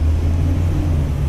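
A car passes on the road: a steady low broadband whoosh of tyre and engine noise filling the whole moment at moderate loudness, with no speech over it.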